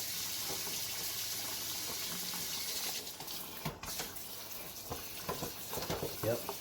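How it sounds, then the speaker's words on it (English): A stream of water blasts into the dirty wheel bearings of an X-Maxx RC car, a dense, steady rushing spray that later breaks into uneven splashes and gurgles as the flow shifts, close by. "get the water right in there. Flush that right out."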